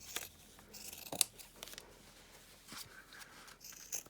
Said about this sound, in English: cut out the fabric